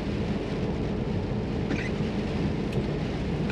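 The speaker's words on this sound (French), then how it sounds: "Et ça continue de pleuvoir." Rain keeps falling through a thunderstorm at a truck stop in Mayenne, a dense, continuous wash of rain with a low, rolling rumble underneath. No voices cut in.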